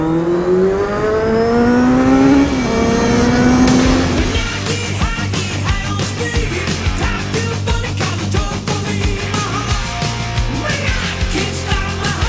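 Motorbike engine on a ride, revving with rising pitch then settling into steady running with gear changes and a loud, close drone throughout.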